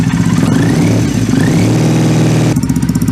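A Triumph Bonneville motorcycle fitted with British Customs Predator exhaust pipes idles loudly and steadily up close, with a couple of brief throttle blips lifting the engine note, then settling back into its deep, continuous rumble.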